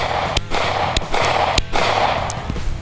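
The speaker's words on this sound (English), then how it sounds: "That's a 9mm Luger 124 grain full metal jacket from Aguila." Aguila 9mm Luger 124 grain full metal jacket rounds fired in a series of sharp, loud gunshot cracks, about five evenly spaced reports over steady background noise.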